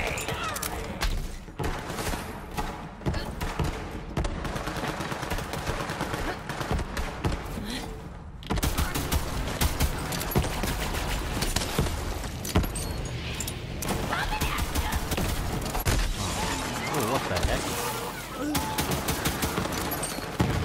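Dense gunfire from a first-person shooter game, Borderlands 3, with rapid bursts and steady automatic shooting across the whole stretch, loud and continuous with thuds and impacts mixed in.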